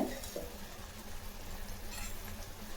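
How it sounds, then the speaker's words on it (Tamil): A pot of sambar bubbles and simmers quietly, with soft popping and gentle sizzling at a low, steady level. "நல்லா தலை தலைன்னு கொதிக்குது பாருங்க"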